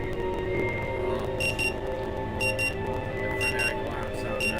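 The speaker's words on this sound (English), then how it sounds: "The frenetic alarm sound nudges you to the present moment." Frantic alarm clock ringing in the video game Rue Valley, a loud continuous electronic tone with repeated high beeping bursts over a steady background hum.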